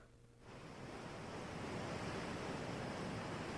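Steady wash of water waves at night below a balcony over vast dark water, a dense unbroken roar that swells in after a brief quieter moment and holds loud to the end, with no voices.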